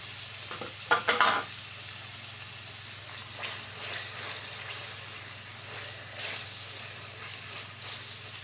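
Three chopped onions go into meat and oil in a pot and fry with a steady soft sizzle, broken by a few louder clattering stirs of a utensil against the pan near the start and lighter scraping stirs later.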